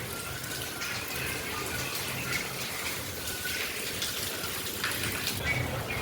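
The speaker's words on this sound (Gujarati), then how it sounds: "આજે આપણો વરસાદ ચાલુ છે" Steady rain falls in a continuous hiss and patter, dense and even throughout, with no voices.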